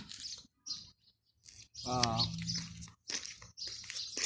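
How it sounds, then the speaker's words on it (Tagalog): Birds chirp in a backyard in Abu Dhabi, with short, high tweets coming in bursts while a person talks nearby. "A lot of birds."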